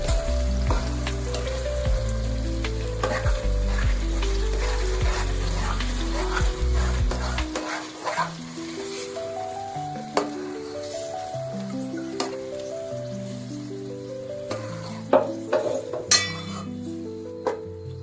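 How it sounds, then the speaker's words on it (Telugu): Ground spice paste being stirred into country chicken curry as it fries in a pot, loud sizzling with spoon scrapes and clinks against the pot, close up, a musical tone running underneath and no voices. "పేస్ట్ అనేది మొత్తం యాడ్ చేసుకున్నాక స్లోగా కలుపుకోవాలి"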